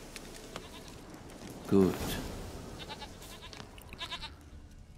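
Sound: goat bleating in the video game The Witcher 3

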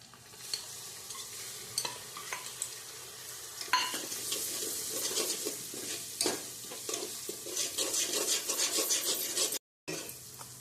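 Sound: ginger, chilli and garlic masala frying in oil

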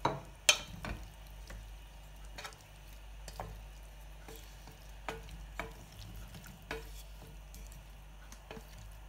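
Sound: stirring chicken and mushrooms in a pan

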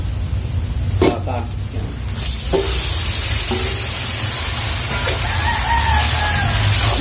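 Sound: marinated beef sizzling in a pan with onion, ginger, garlic

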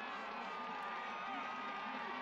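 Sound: crowd roaring at canoe sprint race finish

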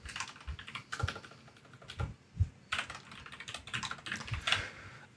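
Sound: typing an email address on a computer keyboard

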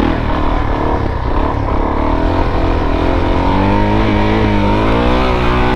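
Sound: motorcycle engine revving

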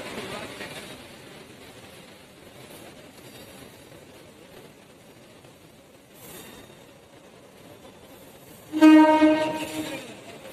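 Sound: train at railway station

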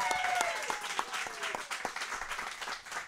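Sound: audience applause for guests

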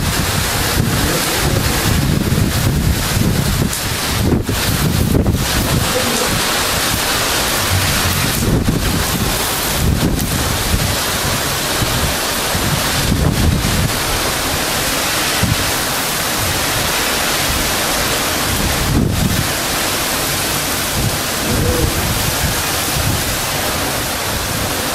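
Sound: storm wind and ocean waves

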